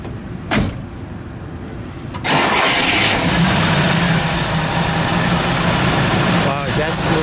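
A 1965 Buick Riviera with a 401 engine cranks and catches after a couple of clicks, then settles into a loud, steady idle close by, with people talking quietly over it.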